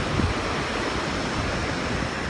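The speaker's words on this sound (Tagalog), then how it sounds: "Ito pala yung Elephant Waterfalls." Elephant Waterfall in Dalat, Vietnam roars as a constant, broadband rush of falling water, loud and close, with no voices over it.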